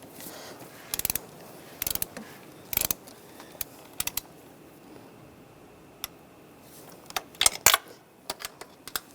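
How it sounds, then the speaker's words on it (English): A torque wrench ratchets as valve cover bolts are tightened from the center outward on a 2001-2006 BMW 325Xi, giving scattered bursts of sharp clicks and mechanical clatter against quiet garage background. "working from the center outward, we're going to torque these to 8 foot-pounds."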